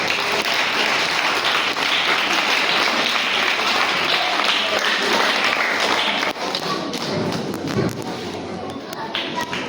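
A school gathering where pupils acknowledge each representative school with applause: a dense, steady patter of hand claps and thuds from a crowd, loud and continuous, easing slightly toward the end, with some voices mixed in.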